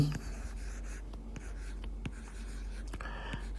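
Writing on a board during a maths lesson, quiet scratchy strokes and tapping marks spaced irregularly, close in a still room with faint hum, no talking.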